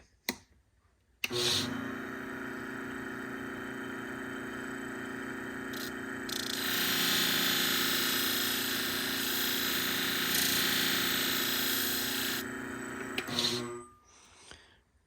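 A sharpening machine grinds tiny Kenchii grooming shears held freehand, giving a steady, loud grinding whine for about thirteen seconds that swells midway, then cuts off abruptly.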